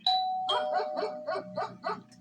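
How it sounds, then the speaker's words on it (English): A two-tone doorbell chime rings once, then a dog barks several times in quick succession nearby. "I was literally watching a video when the doorbell rang."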